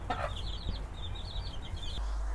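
A Pekin bantam hen gives soft, quick clucking and chirping calls up close, in a quiet series of short notes.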